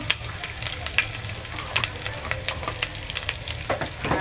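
Mung dal sautés in a hot pan with a dense, continuous sizzle, broken by frequent scraping stir strokes at an uneven rhythm; no voices.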